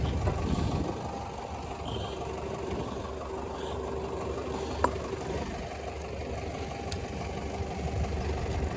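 Low, steady rumble of a tractor engine idling nearby during field preparation for sowing barley, with a brief sharp click midway.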